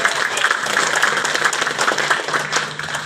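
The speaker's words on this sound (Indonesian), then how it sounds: "Tepuk tangan dulu ya." A seminar audience of teachers claps together, a close, loud, steady burst of applause sustained for about three seconds with no talk over it.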